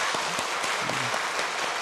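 A church congregation claps together at a Korean service honoring elderly members, a dense steady burst of hands filling under two seconds.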